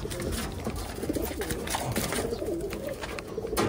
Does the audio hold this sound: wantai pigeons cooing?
yes